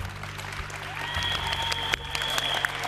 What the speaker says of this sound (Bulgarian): Сега, моля аплодисменти за моята асистентка Леля Цеце.